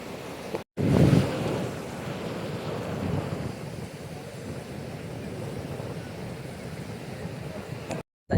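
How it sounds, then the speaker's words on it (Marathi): Ocean waves wash onto a North Goa beach at Miramar, a steady rushing surf with a swell near the start, mixed with wind buffeting the microphone. "वर येते डायरेक्ट लाटा."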